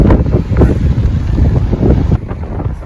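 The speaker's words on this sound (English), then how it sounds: "it is a really, really windy day, if you can't tell" Strong wind buffets the microphone in heavy, roaring gusts, continuous and loud, easing slightly toward the end.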